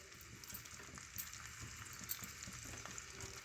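Onions and curry leaves fry in a pan with a faint, steady sizzle and a few soft stirring clinks, low in level and without talk.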